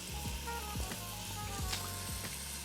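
A beef pot roast sears in an Instant Pot with a steady sizzle and faint repeated scraping or clinking, close and without talk.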